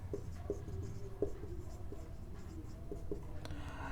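Chalk or marker writing a statement on a board in a maths lesson, faint scratchy taps and short strokes at an irregular pace over a low room hum.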